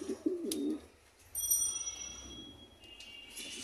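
White King pigeons coo softly in a short burst of low, warbling calls near the start, followed by quieter background noise and a faint, high ringing tone.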